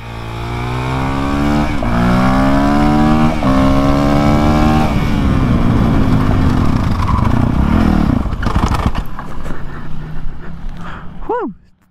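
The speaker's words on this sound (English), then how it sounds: "this bike does have awesome acceleration that can get you in trouble real quick" A Honda CRF 450 RL supermoto motorcycle accelerates hard up through the gears, its loud close engine note climbing in repeated rising sweeps before cutting back, ending with a short fading whine.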